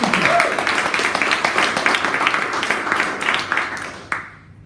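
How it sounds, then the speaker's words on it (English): An audience at an interview event gives a round of applause, a moderate spread of clapping that gradually thins and fades out with a last few claps. "I think that deserves a round of applause, just those tips and tricks."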